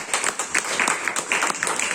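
Congregation clapping at a church service, a steady patter of many hands sustained for two seconds with no voices over it.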